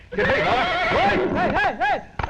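A horse whinnies loudly and close in a Tamil comedy film scene, its neighs rising and falling in repeated wavering arcs over about two seconds.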